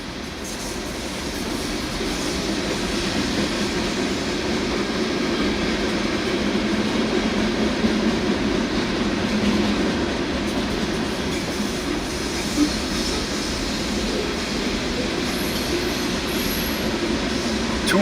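A giant freight train of 275 cars with six engines rolls steadily past, a continuous rumbling roar of wagons with faint wheel squeal, close and sustained throughout, no voices.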